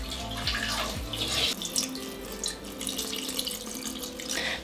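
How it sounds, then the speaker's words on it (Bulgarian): Water pours into a cooking pot holding lamb meat, a steady running splash close by with no voices, as a tap or jug fills the pot. "Наливам вода."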